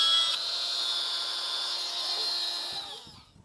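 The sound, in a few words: rotary tool drilling plastic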